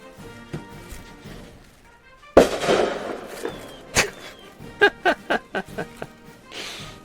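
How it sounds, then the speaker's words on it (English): Fourth of July fireworks going off, one big crackling burst followed by a string of sharp, separate pops and bangs at moderate distance. "like normal to hear like a bunch of fireworks just being shot off in the middle of the fucking day"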